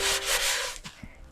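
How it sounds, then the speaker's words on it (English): A damp cloth scrubbing baking soda around the inside of an air fryer base: a close, loud gritty rubbing that fades into a few light scuffs. "I'm going to go into the base of the air fryer, and I'm going to rub it all around"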